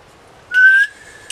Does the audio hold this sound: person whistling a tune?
yes